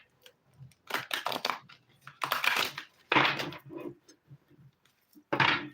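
Thick, new, stiff cardstock cards are shuffled by hand in several short, crisp riffling bursts separated by pauses, close and fairly loud, with no talking.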